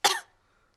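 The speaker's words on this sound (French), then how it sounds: "Mais regardez ce qui se passe quand je tousse." A single short cough from a cartoon pig character in Peppa Pig, close and clear, fading quickly into silence.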